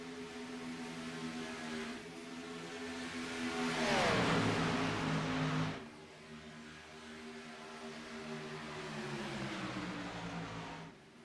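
Xfinity Series race cars powering out of turn 4 at Daytona, engines droning and rising, one car sweeping past loudly with a falling pitch midway, then the pack's engines rebuilding in a steady roar.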